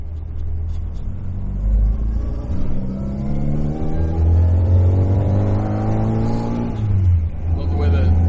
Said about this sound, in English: Love the way the dual line exhaust and the headers sound on this thing